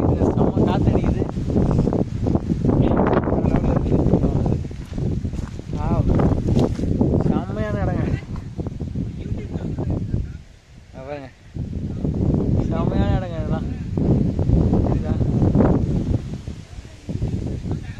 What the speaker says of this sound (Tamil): செம்ம காத்து அடிக்குது.